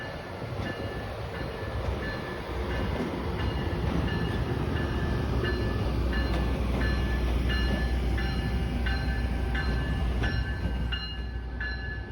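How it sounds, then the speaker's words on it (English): An MBTA locomotive running light without cars rumbles steadily nearby in Boston, a deep continuous engine drone with faint metallic clicks and tones riding over it. "Essentially, engines light means when a train is running with just the engine, no cars."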